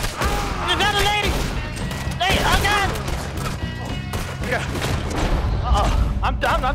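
Rifle fire crackles through a Red Dead Redemption 2 shootout in a gang ambush, repeated loud shots and crashes piling up densely while players shout over the din.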